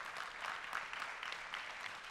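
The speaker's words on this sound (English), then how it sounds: "some applause for Epic" Applause from a keynote audience at Oculus Connect, a steady wash of many hands clapping that stays moderately loud throughout without breaking off.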